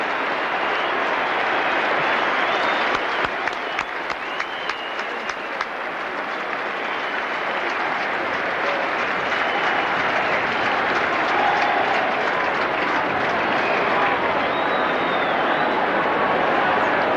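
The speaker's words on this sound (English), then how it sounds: "Big cheer for Lee Matthews and Alan Jeans." A huge stadium crowd at the MCG for the 1983 VFL Grand Final between Hawthorn and Essendon, with sustained roaring cheers and dense applause rolling on steadily and loudly throughout, distant and washing, no clear talk.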